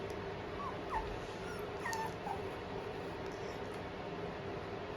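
A six-week-old Pomeranian puppy whimpers in a few faint, thin high whines and yips over a steady low background hum, brief and scattered rather than continuous.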